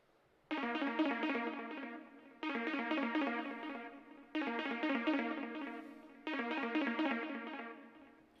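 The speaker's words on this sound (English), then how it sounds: "this is the pattern of the synth" A basic synth pattern sequenced in Logic. A bright, buzzy repeating phrase plays four times, each about two seconds long, with quick arpeggiated notes separated by short gaps. It is moderately quiet and heard alone.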